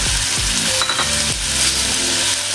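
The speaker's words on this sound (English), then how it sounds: "This time, we can now add our tomatoes" Tomatoes tumble into a pan of sautéing pakbet vegetables with garlic, setting off a loud, steady sizzle with a few stirring clatters and bumps of the utensil against the pan.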